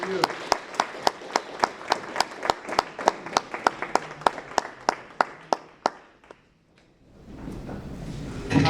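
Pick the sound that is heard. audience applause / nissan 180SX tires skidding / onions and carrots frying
audience applause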